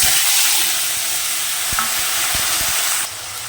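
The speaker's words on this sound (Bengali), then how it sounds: "এর মধ্যে আমি একটু সর্ষে ফোড়ন দেবো, দিয়ে আলুটাকে ভেজে নেব" Potatoes fry in hot oil with mustard seeds, a loud continuous sizzle close up, with a few soft clicks and taps of stirring underneath before the hiss eases slightly near the end.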